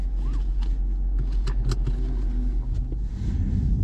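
Cupra Formentor VZ5 driving on snow, a steady close engine drone with a low rumble throughout and a few brief higher bursts, no talk.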